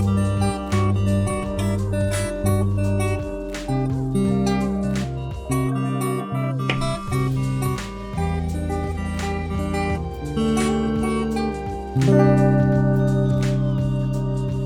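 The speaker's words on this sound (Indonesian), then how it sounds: "Nah, kita tes suara gitarnya." A guitar plays a strummed and plucked chord progression, steady and close, with ringing notes and no voice.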